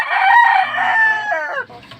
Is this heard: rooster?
yes